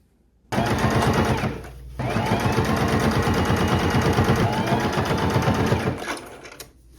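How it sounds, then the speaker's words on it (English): Sewing machine stitching a liner into a dress made from a thrifted bedsheet, running in a loud, steady rapid chatter for several seconds with a brief pause partway through, then slowing to a stop. "We're just going to stitch right along this part here"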